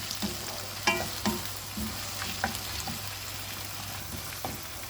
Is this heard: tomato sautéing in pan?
yes